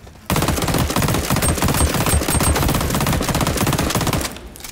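Rapid automatic gunfire from a video game gun fitted with a rapid fire barrel, a dense, loud, unbroken stream of shots lasting about four seconds before cutting off.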